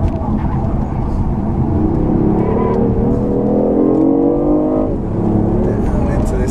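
A fast car accelerates hard on a race track, its engine note climbing steadily and loudly from inside the cabin, with a brief dip near the end as it shifts, continuous and dominant throughout.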